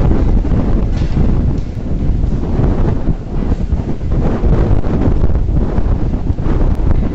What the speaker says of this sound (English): Wind is getting very heavy.